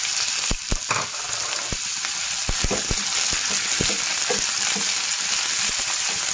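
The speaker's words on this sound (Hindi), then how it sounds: "और इसको भूनेंगे, हल्का सा लाइट ब्राउन हो जाए" Chopped onion frying in oil in a kadhai, a loud constant sizzle with crackling pops and occasional spatula knocks, close and continuous.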